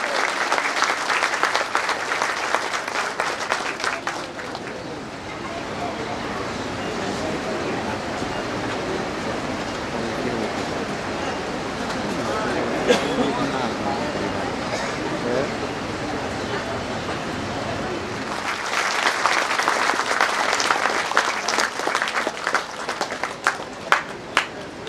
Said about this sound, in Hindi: ताली भी बजती रहनी चाहिए।